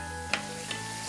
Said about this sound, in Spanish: lo siguiente que echamos en el sauté va a ser el calamar picadito